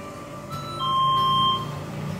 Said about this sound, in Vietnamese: Khi mở cửa này thì tiếng chuông đính đon sẽ ngân lên.